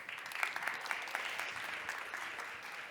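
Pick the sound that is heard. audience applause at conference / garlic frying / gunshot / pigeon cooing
audience applause at conference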